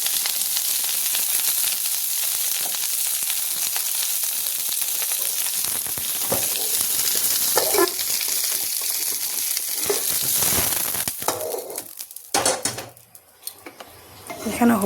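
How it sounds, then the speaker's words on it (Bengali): Cauliflower and carrot fry in a cooker for a vegetable dal, a steady loud sizzle with scattered clinks of a utensil against the pot. "এখানে ফুলকপি আর গাজর ভাজা হয়ে গেছে"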